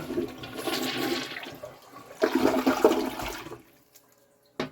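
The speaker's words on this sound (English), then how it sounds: "here goes the toilet. It's about to be ready again for another flush." A toilet flushing nearby: a rushing swirl of water in two surges that drains away into quiet trickling, then a brief sound at the very end, with no talk.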